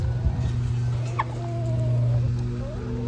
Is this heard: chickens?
yes